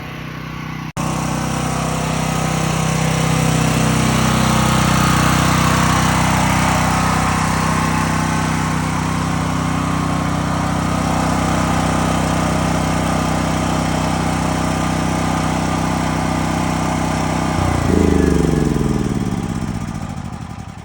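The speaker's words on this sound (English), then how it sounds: "Generator's still running outside, but we're going to go outside and shut her down." Portable home backup generator running outdoors, a loud, steady engine drone close by that shifts pitch and rises briefly near the end.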